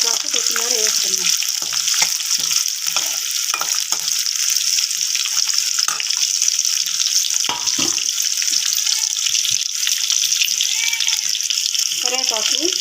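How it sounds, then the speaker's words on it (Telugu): Curry leaves and coriander frying in hot oil while cooking chicken fry, a steady bright sizzle and crackle that runs the whole time, with occasional stirring clinks and a voice speaking softly underneath. "కొంచెం వేగినాక కరివేపాకు కొత్తిమీర వేస్తున్నాం."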